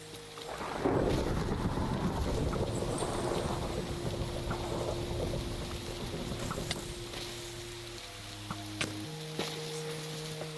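Rumbling thunder from a lightning storm in the Minecraft video game, a loud sustained roll that slowly fades, with steady tones from the game running underneath.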